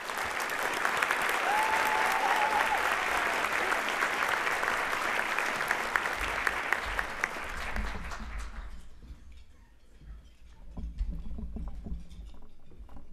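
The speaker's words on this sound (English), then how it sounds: "Can we give them all one round of applause?" An audience at a youth of the year celebration breaks into dense, steady applause for several seconds, then the clapping fades out, leaving quieter room noise and a few scattered claps.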